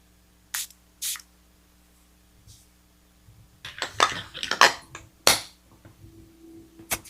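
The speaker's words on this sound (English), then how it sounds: "Let's go ahead and spray it" A bottle of French Tobacco perfume is sprayed in a couple of quick, hissing bursts up close, followed by soft handling clicks and rustles in a quiet room.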